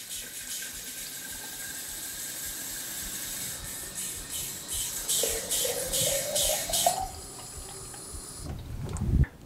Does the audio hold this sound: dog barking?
no